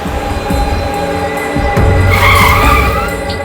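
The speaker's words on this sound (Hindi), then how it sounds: "गाड़ी रोक" A car skids to a stop in a crime-drama scene, its tires squealing loudly and steadily for a few seconds over engine rumble.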